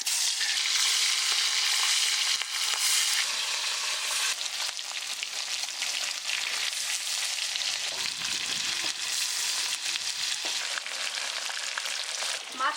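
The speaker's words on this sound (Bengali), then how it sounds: "এখন মাছগুলো ভেজে নেবো" Hilsa fish pieces coated in salt and turmeric frying in mustard oil, a steady loud sizzle and crackle running the whole time with occasional stirring clinks, no voices.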